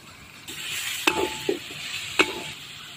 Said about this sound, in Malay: Bila dah pecah minyak, masukkan buah tomato.